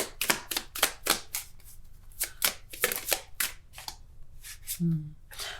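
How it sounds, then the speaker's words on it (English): Tarot cards being shuffled close up during a card reading, a rapid run of crisp riffling bursts and slaps in quick succession, with no voices. "I'm going to keep shuffling to get a clear message."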